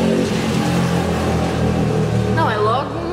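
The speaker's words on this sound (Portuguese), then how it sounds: "é logo um racha de um carro com uma moto" Engines revving as a car and a motorcycle race each other on the street: a loud, sustained engine drone close by, with a rising, whining rev sweep near the end, heard beneath people talking.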